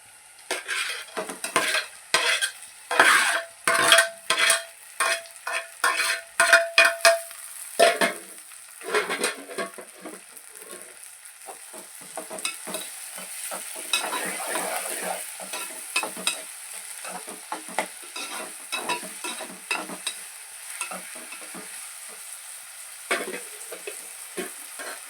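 Onions, two tomatoes and two green chillies fry in a pan with a steady sizzle, while a spoon stirs and scrapes against the metal in quick, repeated strokes.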